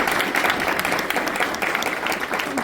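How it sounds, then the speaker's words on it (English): An audience gives a round of applause after a coach's introduction speech, a loud, dense wash of clapping from many people that holds steady throughout. "So if we could have a round of applause for the Hubbard team."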